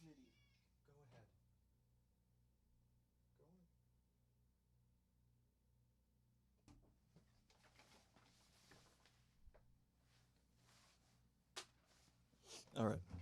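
A house cat at a door lets out a few faint meows and scratches amid near silence, with a low steady hum beneath. Louder short bursts of cries or voice cluster toward the end.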